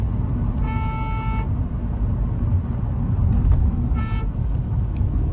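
Heavy street traffic rumbles continuously while two car horns honk, one a sustained toot and another shorter blast a few seconds later.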